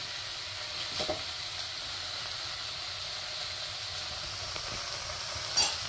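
A dollop of ghee sizzles faintly in a frying pan with a thin steady hiss, quiet and even, broken by a couple of soft utensil clinks.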